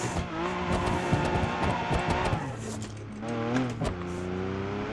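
Simulated car engine revving with tyre squeal and skidding from BeamNG multiplayer driving, loud and continuous with shifting pitch and a brief dip midway.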